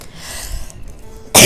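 A single sharp, loud cough comes at the very end after a short stretch of quiet, low background sound.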